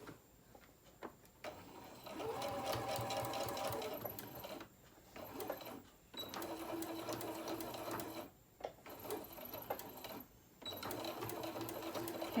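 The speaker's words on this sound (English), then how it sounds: "Now I'm just going to take this and sew this down." A sewing machine stitching down a fabric crayon roll runs in a steady whirring hum with a fast mechanical tick, stopping briefly several times before starting again, fairly close and alone.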